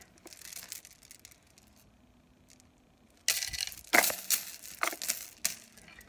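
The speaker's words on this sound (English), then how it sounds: "then I'm going to cut it here with my bolt cutters" Cheap bolt cutters snapping through the links of a homemade tire chain, heard as several sharp, loud crunching cuts and crackles in the second half, after quieter handling noise at the start.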